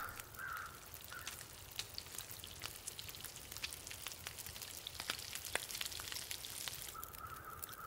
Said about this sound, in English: And now to get the stench down from picking up that meat, cook that.